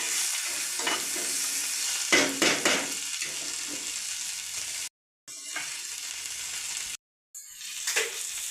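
Cashews fry in a pan with a steady bright sizzle, broken by a few scraping stirs and two abrupt silent gaps.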